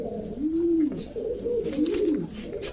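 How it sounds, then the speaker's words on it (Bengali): A female Khaki Silver pigeon gives soft, rolling coos in a few repeated phrases, close and clear, with no one talking. "একদম পুতুলের মতো দেখতে একটা মাদি কবুতর"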